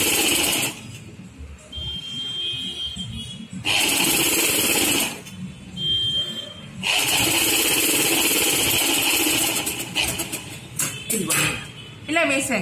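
Sewing machine running in bursts while stitching folded blouse fabric, loud and close, several stretches of steady motor whir separated by short pauses, with a voice talking in between.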